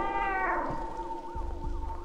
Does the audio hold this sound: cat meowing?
yes